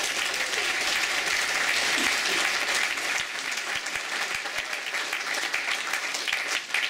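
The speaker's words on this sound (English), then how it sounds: "Let's give a round of applause to the panelists." Audience at a City of Heroes player summit panel applauding the panelists, a dense sustained round of clapping that stays loud throughout and thins slightly toward the end.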